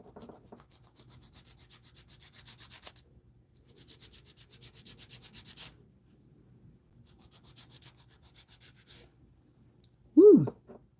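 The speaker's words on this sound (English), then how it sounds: "So I'm gonna continue filing this." A polygel nail being filed, heard as close, soft rhythmic rasping strokes in three separate bursts with quiet gaps, followed by a short vocal sound at the end.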